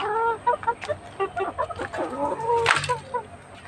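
Several chickens cluck and squawk close by in short, choppy bursts, with a sharper louder call near the end.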